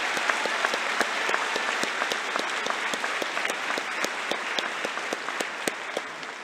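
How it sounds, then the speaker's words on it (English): Dense, sustained applause from a large audience at a college commencement ceremony, a continuous wash of many hands clapping with sharper individual claps standing out throughout. "Let's give them a round of applause."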